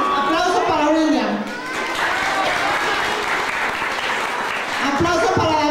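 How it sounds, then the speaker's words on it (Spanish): An audience applauds steadily throughout, with voices and cheering mixed over the clapping at the start and end. "Aplauso para William."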